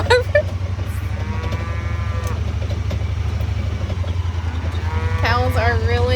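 A cow moos repeatedly on a farm, several drawn-out calls that are loud and close, the last ones rising near the end, over a steady low engine-like hum and occasional talk.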